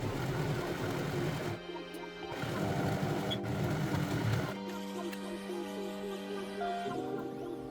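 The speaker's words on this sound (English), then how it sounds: "Sew the bottom edge down." Sewing machine stitching the bottom edge of a handbag made from old denim jeans, a continuous close mechanical hum and rapid needle patter with brief shifts in pitch and pace.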